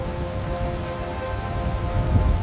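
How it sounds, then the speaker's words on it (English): Heavy autumn rain pouring down, a dense, continuous wash of drops with a low rumbling undertone swelling slightly toward the end. "Then, the sky opened up. The autumn rains arrived."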